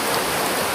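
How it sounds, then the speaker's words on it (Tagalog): Heavy, nonstop rain in the countryside, a dense, steady roar of drops filling the clip with no pauses and no voices. "sobrang lakas ng ulan. Araw-gabi, walang tigil."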